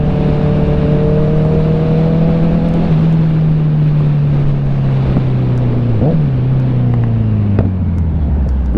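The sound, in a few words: Kawasaki Z900 motorcycle with CS Racing exhaust revving, shifting gears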